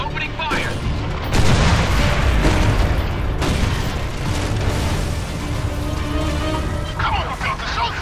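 A Centaur tank opens fire in Gears of War 2, with heavy booms and rumbling explosions running throughout amid a dense battle din, while voices talk over the noise.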